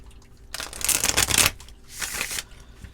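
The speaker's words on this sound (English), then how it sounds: "One more shuffle." Tarot cards riffled and shuffled by hand in two close, crisp bursts, a longer papery flutter followed by a shorter one, with no talking.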